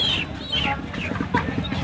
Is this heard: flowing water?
no